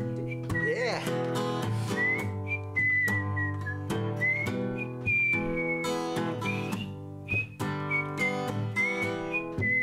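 A person whistles a tune, a clear, steady melodic line carried over a full instrumental backing from start to finish.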